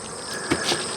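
Honey bees buzz around beehive nucs in a continuous, steady hum, with a couple of slightly louder passes as bees fly close by and no talking.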